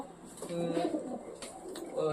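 Pet pigeons cooing nearby in soft, low burbling phrases, fairly quiet, with a voice speaking alongside.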